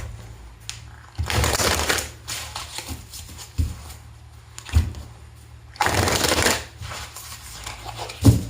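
Tarot cards are shuffled for a reading in repeated bursts of riffling and sliding, with short taps and pauses in between, close and fairly quiet with no talking.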